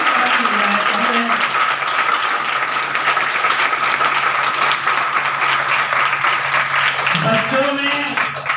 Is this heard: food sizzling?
no